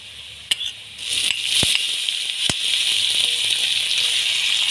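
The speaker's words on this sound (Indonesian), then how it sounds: "Kita tumis sampai harum ya teman-teman" Tomatoes and chilies hit a hot pan and burst into loud, steady sizzling, with a few sharp clacks of a spatula as the stir-fry gets going.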